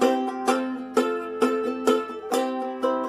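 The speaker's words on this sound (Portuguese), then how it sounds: "Esse é o timbre do ukulele" A ukulele is strummed in a steady rhythm, about two bright strums per second with quick upstrokes between, close and clear with no talking.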